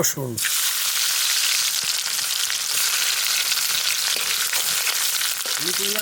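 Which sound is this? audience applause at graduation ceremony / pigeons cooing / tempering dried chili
tempering dried chili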